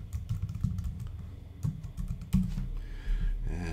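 A domain name tapped out on a computer keyboard, a quick uneven patter of close keystrokes with no voices.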